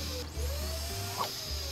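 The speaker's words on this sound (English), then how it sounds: "suck an ingredient off a pizza with a vacuum cleaner" A video game vacuum cleaner sucks pineapple off a pizza with a steady mechanical whir and a thin, wavering whine running throughout, plus a brief sharper blip midway.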